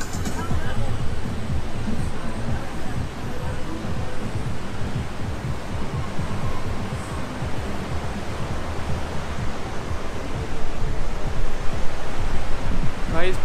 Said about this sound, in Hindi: झरने के जैसा साउंड आ रहा है, बहुत बढ़िया पानी बह रहा है उसका साउंड आ रहा है बहुत